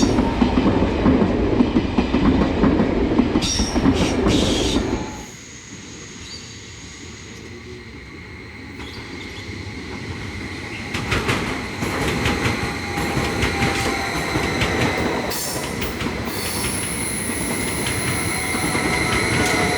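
SBB Swiss inter-city tilting train running on rails between Geneva and Zurich, loud rumbling roar and clatter of wheels that drops away briefly, then rises again with rhythmic clicks and faint squeals.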